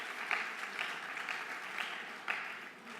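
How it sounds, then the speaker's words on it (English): A school awards-celebration audience applauds the performers with soft, continuous clapping heard from some distance, fairly even throughout, with a few sharper claps standing out. "How about a round of applause for the performers"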